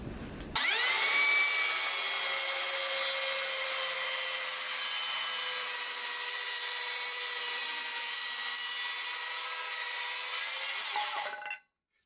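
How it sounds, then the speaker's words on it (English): A circular saw rips through a wooden board being squared up for an epoxy resin river cutting board mold, a steady loud whining cut lasting about eleven seconds before the blade winds down, with no talk. "I'm going to cut it with a circular saw instead of a jigsaw or a bandsaw"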